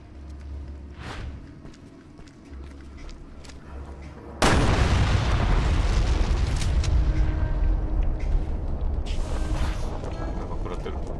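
An explosion goes off in Resident Evil Revelations 2, a sudden loud boom over the game's low rumbling ambience, followed by a sustained roaring, crackling wash of noise.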